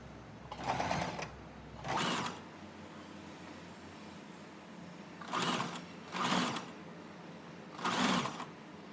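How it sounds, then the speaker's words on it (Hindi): A sewing machine stitches lace around a garment neckline in five short bursts of rapid whirring, each lasting about a second, separated by quiet pauses while the fabric is repositioned. "इस लेस को इस तरह से रखते हुए पूरे नेक में सिलाई लगा लेंगे"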